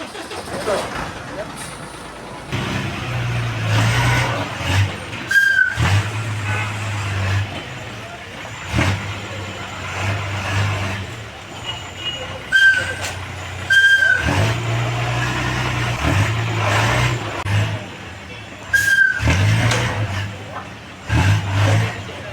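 Road traffic at a flooded private bus stand in Kottarakkara town after rain: cars and buses rumble past close by, with repeated sharp air-brake hisses and people talking intermittently over the engine noise.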